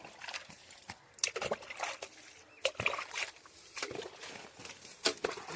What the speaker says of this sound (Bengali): এবার এগুলো জল দিয়ে দিই।